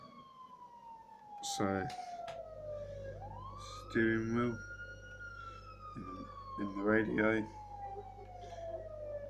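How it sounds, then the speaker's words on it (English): Police car siren in GTA 5, a long wailing tone sweeping slowly up and down through the whole stretch, steady and fairly loud, with someone talking over it in short bursts. "That's the siren."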